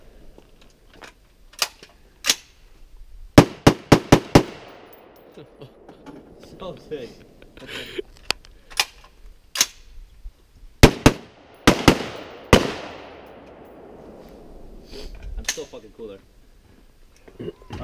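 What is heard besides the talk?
gunfire from a rifle at a shooting range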